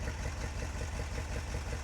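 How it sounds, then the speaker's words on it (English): A '72 International Cargostar engine idling, a steady low mechanical drone with a fast rattly ticking from the top end running continuously, fairly constant in level with no voices. "The like lifter top end noise is really loud."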